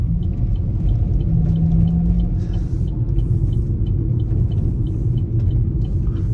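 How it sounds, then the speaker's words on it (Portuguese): Toyota Hilux engine rumbling in city traffic: a loud, continuous low drone holds steady from start to end, with faint higher ticks above it and no voices. "Essa Hilux tá com um barulhão alto."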